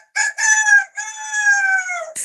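A human voice imitates a rooster's crow, a close, clear cock-a-doodle-doo in several drawn-out rising and falling syllables, alone with no background noise.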